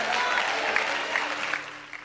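A church congregation claps hands together in a steady burst of applause, fairly loud and continuous.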